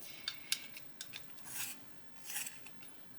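A brown colouring pencil is sharpened in short bursts: several quick crisp scraping twists, then two longer grinding turns, close and fairly quiet.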